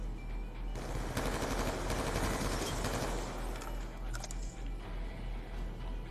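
Automatic gunfire in Call of Duty Black Ops 2 multiplayer on the Uplink map, a dense, steady stream of rapid shots rattling continuously for several seconds at close range.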